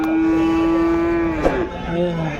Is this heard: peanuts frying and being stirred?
no